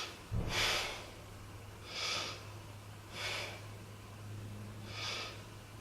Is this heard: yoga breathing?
yes